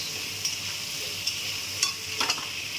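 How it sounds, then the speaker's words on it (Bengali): Eggplant pieces fry in hot oil in a pan for an ilish fish curry, a steady close sizzle with a few soft clinks and stirring touches and no voices. "সবার ফার্স্টে বেগুনটা দিয়ে আগে বেগুনটা একটু ভেজে নিচ্ছি।"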